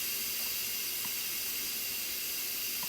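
An Instant Pot pressure cooker venting steam, a steady broad hiss held at an even level for the whole stretch, close and unbroken, with faint small clicks underneath.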